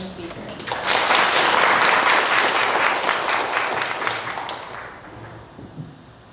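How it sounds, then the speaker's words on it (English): Audience applause welcoming speakers onto a STEM panel, a dense burst of clapping that swells quickly, holds for a few seconds, then thins out and fades. "Let's give a round of applause and a warm welcome to our amazing speakers"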